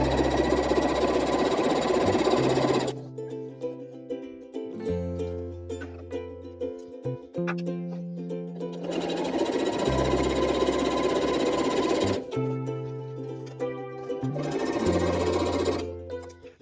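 A sewing machine stitches lines across a quilt block in two long, loud runs of rapid whirring, separated by quieter gaps filled with low hums and tones.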